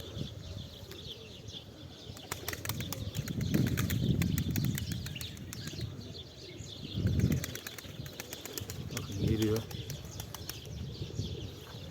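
Pigeons burst into flight with fluttering, clapping wingbeats in several waves, some soft cooing and faint background voices between the flurries.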